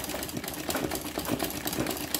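A machine embroidery sewing machine stitches an apple design in a steady, fast, rhythmic whir that runs unbroken and close up for the whole moment.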